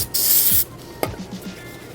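Short bursts of spray and scrubbing as old grease is cleaned out of a BMW M3 E36 suspension bushing part, a loud hiss followed by a few quieter rubbing scrapes.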